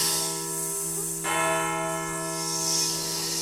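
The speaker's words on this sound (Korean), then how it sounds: "종소리가 울리잖아" A temple bell rings once in an animated folk tale, a bright struck tone that blooms and hangs in a long ringing decay over a low steady hum.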